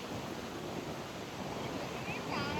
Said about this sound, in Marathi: हवा सुटली आहे, हवा पण कशी थंडगार हवा नाही, गरम आणि थंड असं मिक्स हवा एकदम